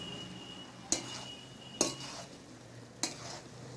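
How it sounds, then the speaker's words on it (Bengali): Raw jackfruit and potato being stirred with masala in a pan, three sharp utensil scrapes and knocks spaced about a second apart over a faint, quiet sizzle. "এটাকে খুব ভালো করে কষাতে হবে এরকমভাবে ওপর নিচ করে ভালো করে কষাবেন যাতে মশলাটা সব জায়গায় যায়"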